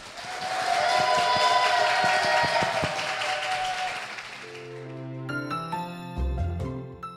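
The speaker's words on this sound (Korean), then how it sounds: "귀한 간증 들려주신 세 분께 힘찬 박수 부탁드리겠습니다" A church congregation gives a sustained round of applause, dense clapping that fades out and is followed by bright chiming music.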